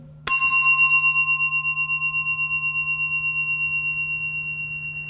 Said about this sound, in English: there's a sound of the bell coming